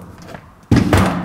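A steel door in a wood shop knocks against a scrap panel of Dricore R+ subfloor laid over concrete: one sharp, close thud, then a second heavier bump a moment later, with no talking.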